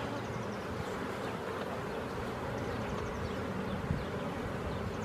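Dense, steady buzzing of honey bees swarming around an apiary hive during a spring inspection, a continuous close drone of many wings with no voices.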